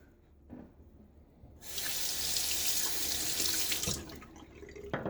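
A bathroom tap turned on to rinse while wet shaving, water gushing steadily and loudly for a couple of seconds before being shut off, with small handling knocks around it.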